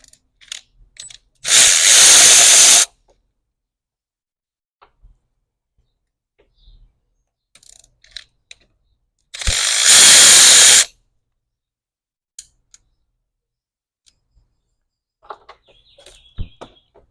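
Two separate bursts of a power tool, each about a second long, whir loudly as it removes screws from a VW/Audi 2.0T engine during oil separator replacement. Quiet pauses and faint clicks fall between the bursts.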